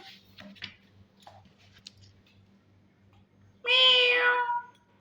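A kitten lets out one clear, fairly loud meow near the end, after a quiet stretch of light ticking and clicking sounds.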